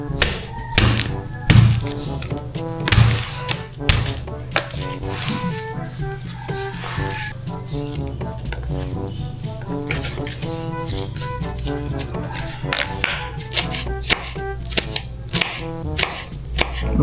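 Garlic and onion are chopped with a knife on a board in a home kitchen, a steady run of quick, crisp strikes over background music throughout.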